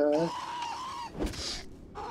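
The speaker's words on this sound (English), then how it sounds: "Annoying birds." Honking, squawking game birds in Conan Exiles, several harsh calls close by, some overlapping, with a burst of impact noise partway through.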